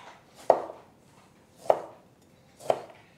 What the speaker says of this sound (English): Now I need another lime that's thinly sliced.